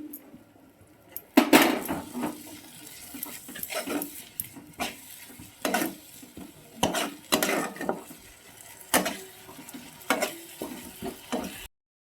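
Spice paste is stir-fried in a pan, with irregular bursts of scraping and clinking from the spatula over a soft sizzle and quieter gaps between strokes.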